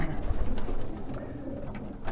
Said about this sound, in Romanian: am băgat undeva 15 pui, 15 porumbei noi anul ăsta la matcă